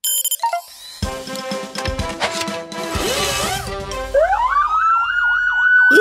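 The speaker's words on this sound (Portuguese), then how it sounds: "Talvez algo do tipo funcione com a sirene." A cartoon siren starts up and wails in a rising, undulating pattern, loud and close, after a jumble of cartoonish clanks and tones.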